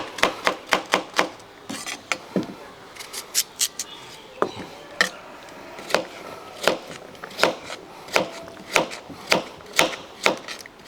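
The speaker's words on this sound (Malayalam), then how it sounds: "ഞാനിപ്പോൾ ഇതേ രീതിയിലൊന്ന് അരിഞ്ഞ് ഇങ്ങോട്ടെടുക്കുകയാണ്." A knife chops ingredients for Kerala payasam on a board, with about thirty sharp, close knocks coming in quick bursts and short pauses, clear and unaccompanied by talk.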